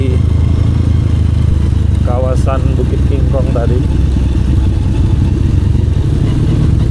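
Motorcycle rolling downhill from Bukit Kingkong in East Java near Bromo, a steady loud engine and road drone throughout with someone talking over it.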